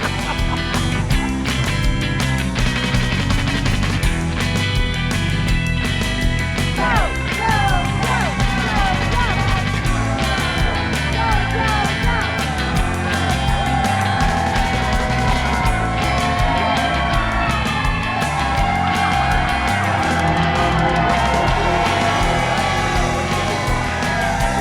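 A large crowd in Sunbury cheers continuously at a Go Joe charity bike ride stop. The noise is loud and dense, with yells and whoops throughout, and some voices and music blend in underneath.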